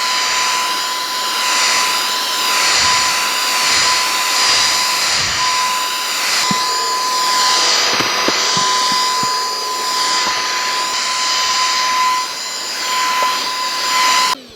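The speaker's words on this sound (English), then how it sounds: "So let me see if I can get the vacuum underneath there." A vacuum cleaner whines loudly and continuously while sucking up spilled corn from a home floor, the steady roar broken by brief clicks and rattles as kernels are pulled in.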